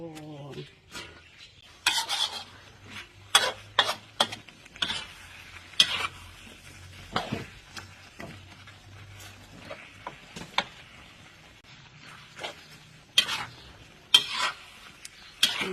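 Food cooking in a pan while waiting for it to boil, with close scraping stirs and utensil clinks against the pan in irregular bursts over a faint steady background, and no talk.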